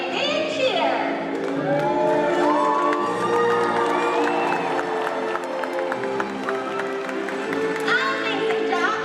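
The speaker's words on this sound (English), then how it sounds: "When we see this jump, let's give it a great big cheer." An audience at an orca show cheers and whoops loudly, with children's shouts and scattered clapping rising over the crowd noise.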